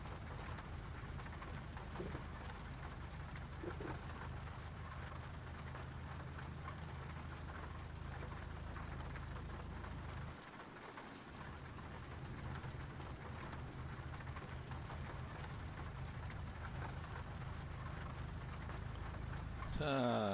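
Steady rain pours down in Euro Truck Simulator 2 during an early-morning truck drive through Spain, a constant hiss of drops that runs the whole time with a brief dip and a faint engine hum beneath.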